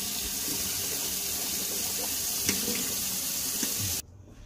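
Tap water runs steadily into a sink for about four seconds in a close, continuous splashing hiss, then cuts off abruptly to near silence.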